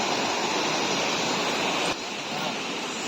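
Cold, clean stream water flowing over rocks, a dense, steady rushing wash, loud and close, continuing alone with a slight drop in level partway through.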